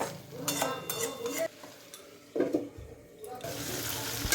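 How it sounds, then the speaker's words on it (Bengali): Potatoes and spices being stirred in a pan with a little added water, wet scraping and sloshing in bursts up close, with a quieter stretch midway and a soft hiss of liquid toward the end. "আরও একটু জল দেব। জল দিয়ে আরও ভালো করে"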